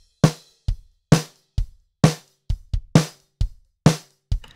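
Drum mix with the snare pushed much louder than the kick, bright cracking snare hits dominating over short, subdued kick thumps in a regular rock pattern.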